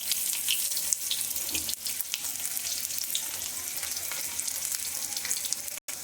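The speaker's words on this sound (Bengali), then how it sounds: "এটা আমি চিকেন করছি চিকেনের আলুগুলো ভেজে নিচ্ছি" Potatoes fry in a little oil for a chicken curry, giving a close, steady hiss and crackle with occasional stirring scrapes and a brief dropout near the end; no talking.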